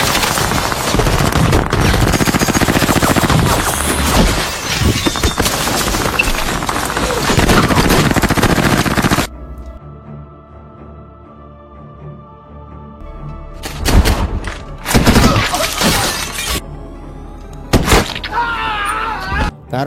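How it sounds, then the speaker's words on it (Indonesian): Gunfire in an action film shootout: loud, dense bursts of rapid shots and cracks fill the first half, then a quieter pause before further sharp volleys erupt in short clusters. "Baku tembak antara David dan pasukan Carver pun tak terhindarkan."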